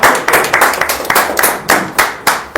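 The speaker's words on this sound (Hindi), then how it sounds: "तो जोरदार तालियों के साथ" Audience clapping at a seminar in Sunder Nagar, Himachal Pradesh, as a speaker is welcomed: loud, close, uneven rhythmic claps from a small group, with no talk over it.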